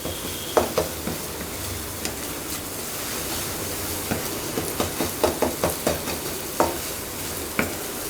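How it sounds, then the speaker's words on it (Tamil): Two beaten eggs frying in a pan for road-side chicken fried rice, with a steady sizzle beneath repeated sharp scraping clicks of a spatula stirring, close and moderately loud, no talking. "இப்போ 2 முட்டையை அடித்து ஊற்றிக்கலாங்க."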